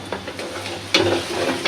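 A spice paste of onion, salt, cumin, chili paste and ginger-garlic paste sizzles in a pan, with soft stirring scrapes and a sharper burst of frying near the end, close and steady.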